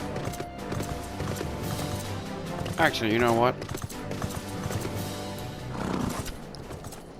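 Steady horse hooves clip-clop in the game Final Fantasy XIV: Stormblood under a man's speech, with a brief whinny partway through.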